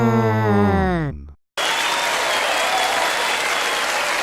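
A sung or voiced tone cuts off into brief silence, then a studio audience at a comedy show breaks into loud, steady applause that carries on to the end.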